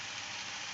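A Humber Sceptre mk3 petrol engine idling after a fuel pump swap, a steady even hum that is continuous and close with no talking.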